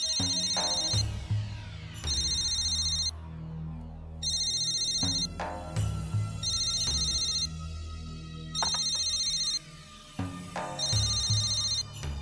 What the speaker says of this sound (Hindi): आप फोन क्यों नहीं उठा रहे?